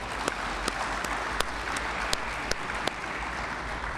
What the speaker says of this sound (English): I want to give Mr. Hart a round of applause.